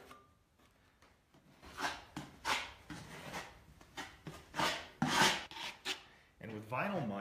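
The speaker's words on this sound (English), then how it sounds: "a little bit of the vinyl mud, and then you can just sort of fill in the gaps here." Vinyl drywall mud being spread over a patch with a knife, a quiet series of short scraping swipes in an uneven rhythm, close and soft with gritty bursts of rasp.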